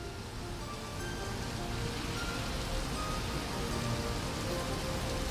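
Steady rain falls in a dense, even hiss, pattering continuously on surfaces at a moderate distance, with no voices or other sounds breaking through.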